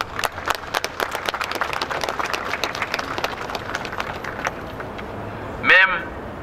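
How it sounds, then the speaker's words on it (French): Audience applause at a genocide commemoration held in a conference hall in Ottawa, with dense clapping in the room that thins out over several seconds, followed by a short loud burst of noise near the end. "je voudrais vous demander d'applaudir"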